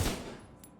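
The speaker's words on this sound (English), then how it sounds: "So when I shoot this guy," A single gunshot blast in the video game The Division 2, a loud close burst at the start that quickly decays into a fading echo.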